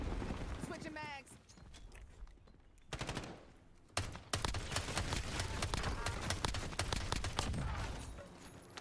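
Rapid gunfire bursts rattle in the shooter Warzone, dense repeated shots mixed with clattering game sounds, loud in places and partly under a man's speech.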